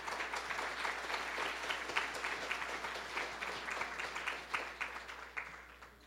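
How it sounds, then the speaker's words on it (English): A live audience at a City Club public forum claps in sustained applause for the event's sponsors, dense and steady, with scattered individual claps standing out, moderately distant and continuous for several seconds. "Please join me in a warm round of applause for all of them."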